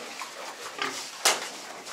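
Pigs, two young boars and a sow, on a farm make snuffling grunts against a constant noisy background, followed by one sharp louder squeal-like burst.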